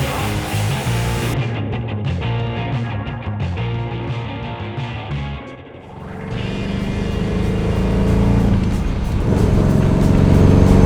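A 1970 HEMI 'Cuda resto mod cruising in fourth gear at about 60 mph gives a loud, steady engine drone with road and wind noise, dipping briefly midway and then building stronger toward the end.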